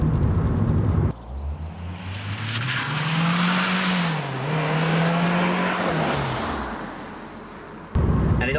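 A Volvo 940 turbo accelerates on the road, its engine note climbing, leveling and climbing again through a long pull before easing off, a loud sustained drone heard from inside the car without talk.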